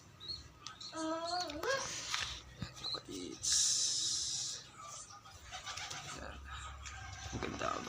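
Pigeons coo softly at close range while people talk nearby, their low murmuring calls mixed with voices and a brief burst of hiss.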